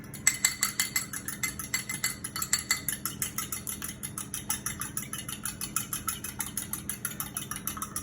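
A fork beats an egg in a small bowl with fast, even clinking taps, several per second, continuing without pause and with no one talking.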